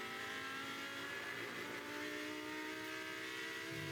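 A newer Porsche GT3 Cup race car drives hard during a track race, its engine droning steadily at high revs, fairly distant and faint, with the tone shifting slightly as it passes.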